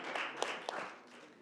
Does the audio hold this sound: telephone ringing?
no